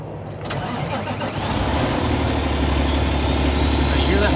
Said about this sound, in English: I'm going to fire this truck back up and let you hear